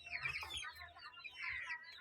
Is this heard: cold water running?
no